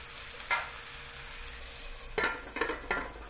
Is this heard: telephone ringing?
no